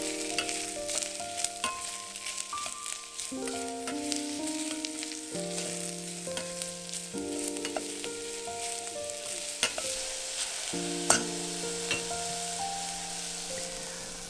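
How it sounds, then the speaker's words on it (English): Vegetables sauté in a pan for janchi-guksu, Korean party noodles, giving a soft continuous sizzle with occasional clinks of a utensil under light background music. "we're just going to toss some in and saute them a little bit until they're nice and soft"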